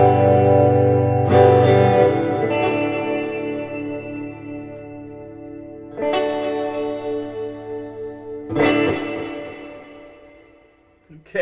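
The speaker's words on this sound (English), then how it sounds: "And this is the modern delay and hall reverb finally." Electric guitar played through a Fender Champion II 25 amplifier with modern delay and hall reverb, three strummed chords each ringing out with long repeating echoes and a lingering wash of reverb, a voice briefly speaking over it.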